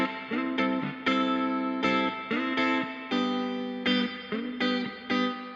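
Clean electric guitar played through a spring reverb, a sequence of picked chords and notes with a short shimmering, splashy tail ringing after each strike, loud and close with no voices.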